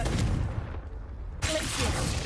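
A Confringo fire spell blast in Hogwarts Legacy on PS5, a loud, close burst of booming, crackling noise, briefly dropping away before a second strong blast.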